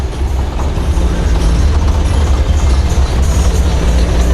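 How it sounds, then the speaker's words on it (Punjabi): A long column of tractors rolls past in a farmers' rally, a dense, steady low engine rumble that stays loud throughout with no pauses, and no voices stand out above it. "ਲੰਬੀ ਕਤਾਰ ਹੈ ਟਰੈਕਟਰਾਂ ਦੀ।"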